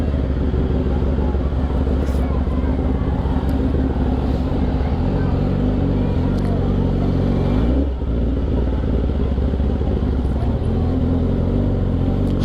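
A Kawasaki ZX10R motorcycle engine runs loud and close with a deep, bassy exhaust rumble, holding a steady throaty drone across the whole stretch with slight swells.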